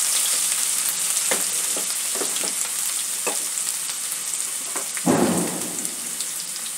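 A key ingredient for egg curry fries in hot oil in a pan, a continuous bright hiss with scattered crackles and a louder surge of sizzling near the end, close up with no talking.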